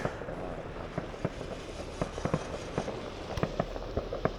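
New Year's Eve fireworks going off at a distance, scattered bangs and crackles popping irregularly over a steady outdoor rumble.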